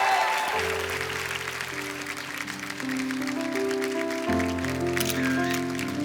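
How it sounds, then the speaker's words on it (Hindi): A television comedy show studio audience claps steadily and warmly while background music with sustained tones plays underneath. "जोरदार तालियां एक बार हो जाए"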